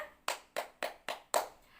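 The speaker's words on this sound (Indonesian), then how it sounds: "Anak-anak, tepuk tangan dulu untuk kita semua" Five sharp hand claps from children in an elementary school science class, evenly spaced about a quarter second apart in a steady rhythm, crisp and close with no talk over them.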